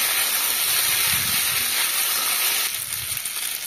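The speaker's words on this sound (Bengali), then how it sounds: "তো এখন পাস্তাগুলির সঙ্গে আমি মশলাটা একটু ভালো করে মিশিয়ে নিচ্ছি" Boiled pasta stirred and fried with spices in a hot pan gives a steady, close hiss and sizzle with faint scraping of the stirring. The sizzle eases slightly toward the end.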